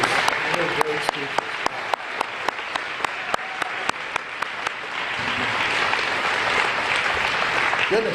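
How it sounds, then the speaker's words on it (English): Audience applause at a Milton-Union Hall of Fame ceremony, a dense sustained wash of clapping from a crowd with sharp individual claps standing out, continuing steadily throughout. "Let's have a round of applause for all of our leaders"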